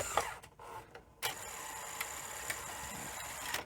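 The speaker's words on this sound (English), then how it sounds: "Okay, so let's press eject." A Sony Betamax SL-F25UB video deck ejects its tape with a short series of mechanical clicks and clunks, then a steady motor whir, heard close and alone.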